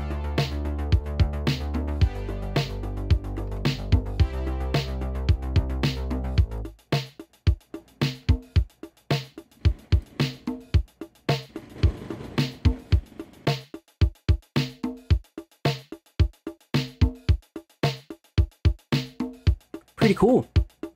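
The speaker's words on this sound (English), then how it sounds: "this rhythmic conga pattern comprised of three sounds, conga slap, conga high, conga low, sounds like this." Programmed conga pattern of slap, high and low hits, first under a dense synth backing, then alone as a crisp, steady repeating rhythm.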